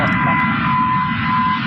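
A jet airplane engine during takeoff roll: a steady, loud, broadband roar with a high whine held constant through the short stretch, no talking.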